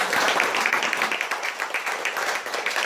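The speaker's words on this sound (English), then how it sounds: "So let's give her a round of applause." A small audience gives steady applause for Patricia, dense clapping at an even level with no talk over it.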